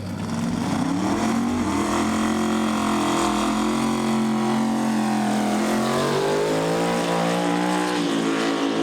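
Pro Mod Mustang drag car from the Fast Company team at Santa Pod Raceway, its engine roaring loud and steady through a rising, revving pitch for the whole stretch with no talk over it.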